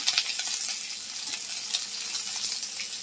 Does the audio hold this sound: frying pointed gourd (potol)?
yes